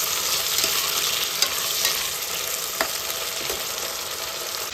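Tomatoes fry in hot oil for a chicken biryani made in a pressure cooker, giving a steady, loud broadband sizzle with a few faint clicks of stirring, close by and without talk.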